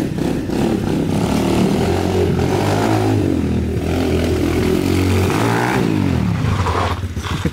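Honda CRF 125 mini trail motorcycle engine revving loud and close, its pitch climbing and dropping through repeated throttle blips, with voices faint underneath.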